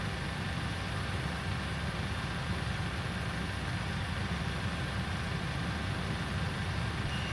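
Airliner engines starting during pushback in a flight simulator produce a steady, low, even engine drone and hum throughout, with no distinct spool-up and no talking.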